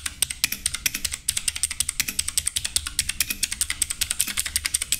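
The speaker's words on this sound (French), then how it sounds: "je vais vous montrer un petit peu le bruit du clavier" Mechanical RGB keyboard with blue switches being typed on close up, a fast, steady stream of sharp clicky keystrokes with crisp high snaps and a slight pause near the start.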